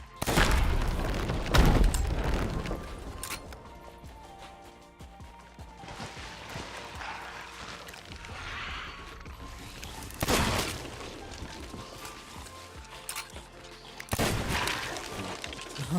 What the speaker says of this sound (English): The range on those explosive barrels is quite impressive.